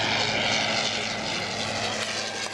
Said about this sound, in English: The plane flew for about 15 minutes